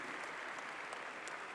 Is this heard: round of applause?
yes